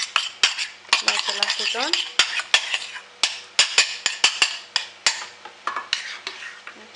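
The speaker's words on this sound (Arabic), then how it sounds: "ونحرك على هذه الطريقة." A metal spoon stirs a homemade body cream mixture with olive oil in a bowl, producing a rapid, close series of sharp clinks and scraping swirls, with a brief voice speaking.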